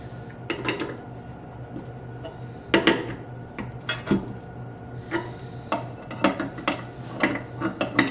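Banjo brackets being tightened with a wrench, producing repeated metallic ratcheting clicks and clanks in irregular bursts, close and moderately loud with no talking.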